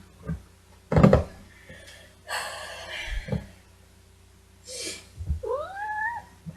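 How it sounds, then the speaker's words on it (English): A cat meows several times at close range, including a drawn-out, rising cry, with some thumps and shuffling between calls. "Hi, kitty."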